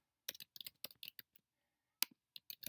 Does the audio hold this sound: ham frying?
no